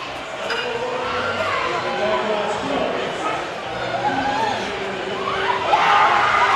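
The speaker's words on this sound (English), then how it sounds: "Hear that crowd getting excited." Crowd at a youth powerlifting nationals meet cheering and shouting as a lifter takes the platform, rising excitement toward the end, with an announcer talking over it.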